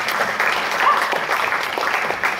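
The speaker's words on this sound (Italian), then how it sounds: "Mimì Notarangelo, Peppe Notarangelo, col vostro applauso." An audience at an outdoor film festival in Sammichele di Bari claps steadily, a dense continuous round of applause lasting the whole short stretch with no voices over it.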